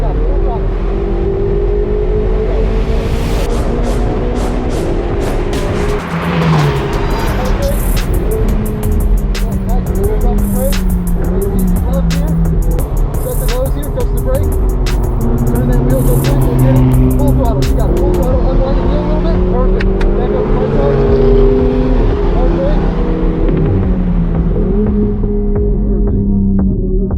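GT3 race car at full throttle, a loud continuous engine drone with pitch rising and falling as it accelerates and shifts through the gears, heard from on board the whole time with speech over it.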